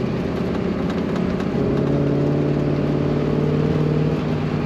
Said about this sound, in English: Nice throaty sound to that exhaust coming out the tailpipe